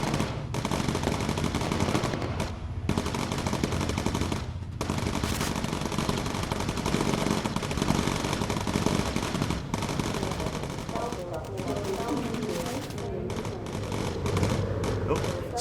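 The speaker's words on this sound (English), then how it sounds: "Let's use some incendiary ammunition." Machine guns firing incendiary ammunition in the video game Bomber Crew rattle in dense, sustained bursts with brief gaps, loud and close, over a constant background rumble.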